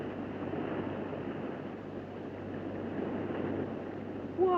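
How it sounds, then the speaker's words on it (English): Water rushing and roaring steadily around an elevator shaft as a radio drama sound effect, a continuous broadband wash that swells slightly toward the end with no talking. "Water rushing around the elevator shaft"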